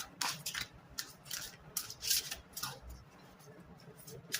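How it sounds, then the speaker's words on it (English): Tarot cards are shuffled in soft, quick riffling and rubbing bursts, close and quiet, with no talking over them. "Okay, two more shuffles."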